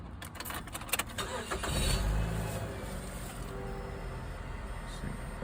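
A 2005 Mazda 3 with a 2.3-liter four-cylinder, fresh from a valve cover gasket replacement, cranks briefly and catches, settling into a steady running hum close to the microphone.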